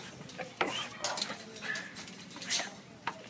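A tiny, excited shelter dog in a kennel makes a few brief, faint whimpers and small yips close by. They come mixed with light metallic clinks and rattles of the kennel.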